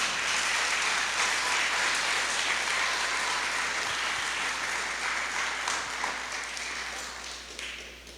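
Strong, sustained applause from a congregation at a church service, a dense wash of clapping that fills the room and slowly tapers off toward the end.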